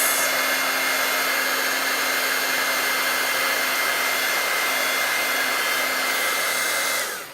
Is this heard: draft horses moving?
no